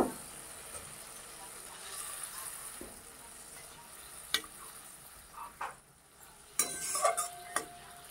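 Water is poured over ground spice paste sizzling in a pan, bringing scattered bursts of hissing sizzle and scraping stirring clicks, mostly soft and close, while a person talks at times.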